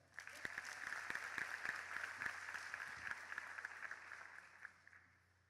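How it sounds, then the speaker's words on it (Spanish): A church congregation at a Sunday youth service breaks into sustained applause, a dense even wash of clapping that fades out near the end. "Un fuerte aplauso."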